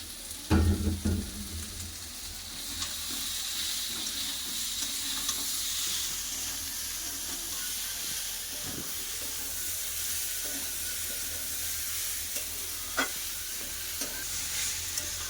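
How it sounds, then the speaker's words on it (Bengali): Cabbage and bottle gourd stems stir-fried in a pan with pumpkin and ginger, a steady sizzle under repeated scraping strokes of a spatula, with a louder clatter near the start and no voices. "বাঁধাকপি লাউ ডাটা ভালো করে কষে নিয়েছি"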